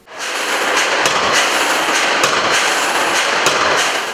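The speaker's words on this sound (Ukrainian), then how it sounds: "Далі за допомогою спеціального приладу молоту працівники ущільнюють структуру металу. Сила удару 3 тонни." A three-ton industrial forging hammer compacts metal in a factory workshop, a loud dense clatter of machinery with several sharp strikes standing out over continuous noise for a few seconds.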